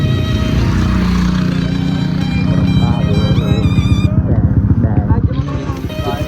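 A drag bike motorcycle engine on a test run rumbles loud and close, building to a rapid pulsing rev with shifting harmonic whine in the second half, while a person talks over it.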